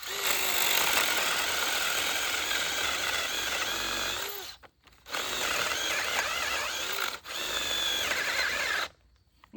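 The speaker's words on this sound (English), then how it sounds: "So we're gonna go speed 2 on this paddle bit" Cordless power drill running at speed 2 with a paddle bit and a 2 amp hour battery, boring through wood in a loud steady whine that cuts out briefly twice and then stops.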